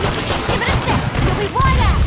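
Explosions and gunfire in the video game Killing Floor 2 crackle and thud continuously at high volume, with players' voices talking over the dense combat noise.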